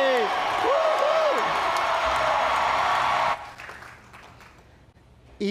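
An audience at an aviation pilot-training talk applauds and cheers for flight instructor Gary Reeves, the 2019 FAA National CFI of the Year. The clapping is dense and loud, with a voice speaking over it, then it cuts off abruptly into quieter room sound.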